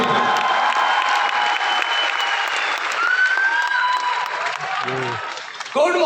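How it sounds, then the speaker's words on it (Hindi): Loud, dense applause from a large audience at a Vestige company event fills the whole stretch, steady and continuous, with a voice briefly cutting through near the end. "जोरदार तालियां।"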